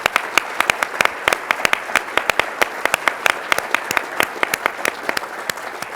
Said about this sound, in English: join me in giving Mike Groen a big round of applause for his leadership